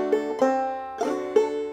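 A clawhammer banjo plays a short measure of "Logan County Blues" in four distinct plucked-and-strummed notes with ringing sustain, close and clear with no voices.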